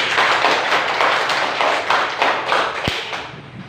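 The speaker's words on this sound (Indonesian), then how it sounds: "Tepuk tangan dulu." A group of schoolchildren in a classroom clapping together in a quick, uneven patter that lasts a few seconds, ending with one sharp, louder clap.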